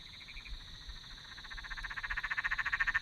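A laughing frog calls nearby, a rapid pulsing chatter that swells steadily louder and faster into a rattling, laugh-like run over a steady high insect drone.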